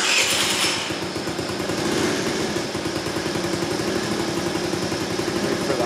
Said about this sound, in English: Wait for the idle to get up right around 1750 RPMs.